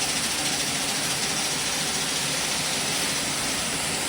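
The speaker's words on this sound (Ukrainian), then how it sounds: "Ось такий малесенький моторчик колись крутив пральну машину, а зараз очищає нам кукурудзу." A small old washing-machine motor repurposed to drive a homemade grain cleaner separating corn runs continuously, giving a steady, dense mechanical whir and rattle at constant level throughout, with no speech.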